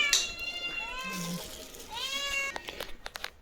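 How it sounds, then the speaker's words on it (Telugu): A cat meows twice, up close and clear, with a pause between calls, followed by a few light crinkling clicks. "పిల్లి మాత్రం బయటకు వచ్చేస్తుంది"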